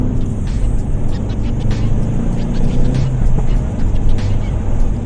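Ford Focus ST engine roaring under acceleration from inside the car, a loud, steady, deep drone with constant road and cabin rumble, no let-up across the stretch.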